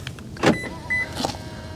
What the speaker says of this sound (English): I forgot to mention that the mirrors auto fold.